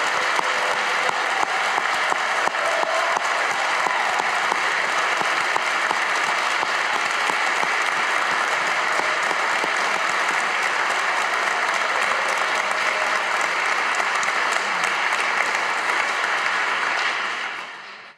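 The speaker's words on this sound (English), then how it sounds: "Let's have one more round of applause for all of our graduating students." Sustained, loud applause from a large audience at a graduate convocation for graduating students, dense and even throughout before fading out at the very end.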